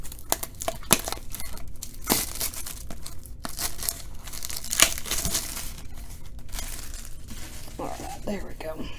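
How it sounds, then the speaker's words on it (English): Plastic wrap being cut and torn off a 1996 Donruss football hobby card box: sharp crinkles and rips come in irregular bursts up close, with a voice talking in between. "Let me go ahead and cut the plastic off of this so I can read it"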